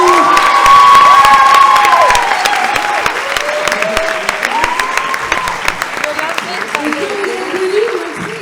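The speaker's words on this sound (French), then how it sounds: "On peut applaudir." An audience applauds after a 2025 amateur theatre play with young performers, loud clapping mixed with cheers, whistles and shouted voices, strongest at first and gradually thinning.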